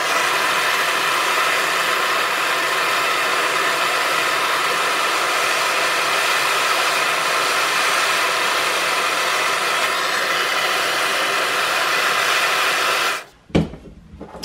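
A hacksaw blade clamped in a vise is heated with a loud, steady roaring hiss that holds constant for about thirteen seconds, then cuts off abruptly with a short clunk.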